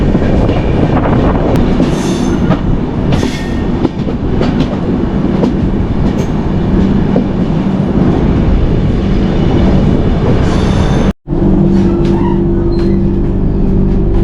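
The Netravati Express rolling into Ernakulam North station, a loud continuous rumble of wheels and carriages with clatter and squeal, briefly dropping out before a steady hum resumes.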